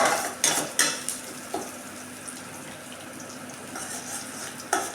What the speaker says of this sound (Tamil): நம்ம மீடியம் ஃப்ளேமில் தான் நான் வச்சு செய்கிறேன் அப்பப்போ நம்ம கிளறி விட்டுக்கலாம்